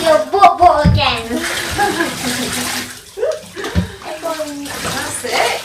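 Water splashes and pours over a dog named Monty during a bath, in uneven bursts under the chatter of an adult and someone talking nearby.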